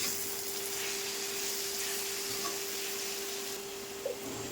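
Gongura leaves fry with dried prawns in hot oil, making a soft, continuous sizzle heard up close with only slight stirring movement and a faint steady hum underneath.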